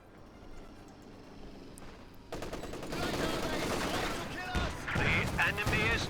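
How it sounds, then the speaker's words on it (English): An anti-tank gun scores a big hit in a Company of Heroes 2 match, a sudden loud blast followed by sustained rattling battle noise and further explosive bursts, with a commentator talking over the action. "that is a big hit from the AT gun there"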